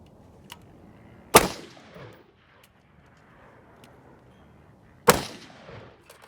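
Two loud, sharp gunshots from a Palmetto State Armory AR pistol, about four seconds apart, each with a short echoing tail, fired outdoors with no talking.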